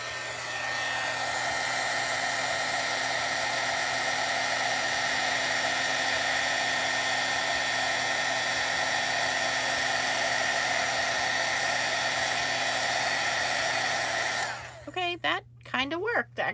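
A heat embossing tool blows over mica powder on cardstock, a loud, constant whooshing hum with a steady whine that cuts off abruptly near the end.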